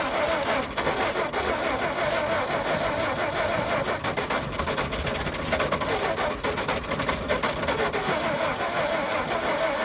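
A 1959 VW Beetle with a single carburetor cranking and trying to start, a steady, fast, rhythmic mechanical churn of the starter and engine that runs continuously, close and fairly loud.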